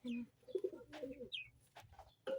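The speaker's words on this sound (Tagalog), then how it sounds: "At ito pa yung isa natin na kalapate." Soft, close pigeon coos in a new loft, several short throaty calls in quick succession with small flutters and faint chirps between them.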